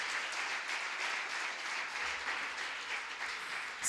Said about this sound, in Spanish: Si le vas a aplaudir, dáselo con gozo.